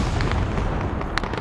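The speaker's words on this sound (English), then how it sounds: "Mortar time." Mortar rounds exploding in a Vietnam War video game, a dense, loud rumble of overlapping blasts with a few sharper cracks near the end, no voices over it.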